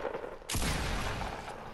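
Gunfire in a shooter video game: one sharp loud burst that rings on with a sustained rattle of shots, fairly close, with no voices.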